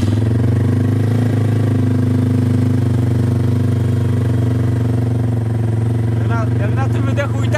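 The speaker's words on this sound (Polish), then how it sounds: "Na tym wydechu i tak dobrze chodzi." A mini sport motorcycle engine runs steadily through its exhaust, a loud, close, continuous drone that holds throughout, with a short burst of rising whine near the end.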